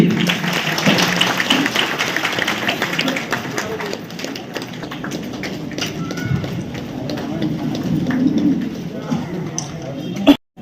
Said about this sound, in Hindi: एक बार ताली बजाते रहिए।